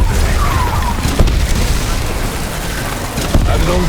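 Explosions boom through a hardcore round of Voyage of Despair, heavy low thuds over a rumbling, crackling battle bed, with two stronger hits standing out near the start and end of the loud, dense mix.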